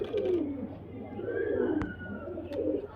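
Low, soft pigeon cooing rolls on steadily throughout, fairly close, with a couple of brief sharp clicks and faint background noise, from high-flyer pigeons at a sale.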